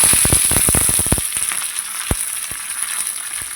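Mustard seeds, curry leaves and green chillies sizzle in hot oil for a tempering, with a rapid burst of crackling pops at the start that thins to scattered spits, loud and close.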